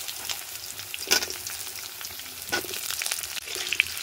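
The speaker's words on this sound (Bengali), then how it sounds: "আলুগুলোকে একটু ভেজে নেব।" Potatoes fry in a pan with whole cloves, cardamom, cinnamon and dried red chillies, a steady close sizzle broken by a few louder bursts of stirring and scraping, with no talk.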